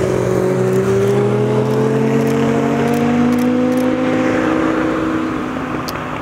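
A white Chevrolet Camaro drives past on a winding mountain road, its engine note loud and close, rising and then easing in pitch as it passes by and fades slightly at the end.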